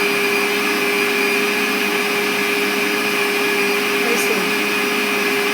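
A Vision 1200 W blender grinding onions runs as a loud, steady motor whine with a fixed pitch and little variation, close by and uninterrupted for the whole stretch.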